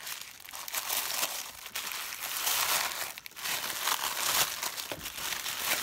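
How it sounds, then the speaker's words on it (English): Tarot deck being unwrapped from rabbit-printed tissue paper in eco-friendly packaging, with continuous close crinkling and crumpling and a few sharper rustles, heard alone with no talking. "beautifully wrapped in some tissue paper with rabbits on it"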